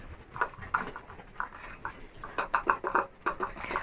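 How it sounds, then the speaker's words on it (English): Several dogs scamper and patter about excitedly outdoors on a windy day, with a string of quick, irregular scuffles and thumps at moderate volume and no talking. "I think the wind is making the dogs go crazy."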